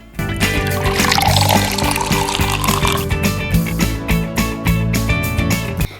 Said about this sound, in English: Now I'm going to pour the water.